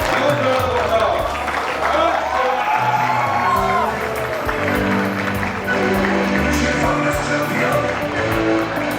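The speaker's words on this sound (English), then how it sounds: "Huge round of applause" Applause and cheering fill a hall at a company anniversary awards ceremony as a winner is called up for Best Developer of the Year, a dense crowd roar with whoops, voices and music mixed in, loud and sustained.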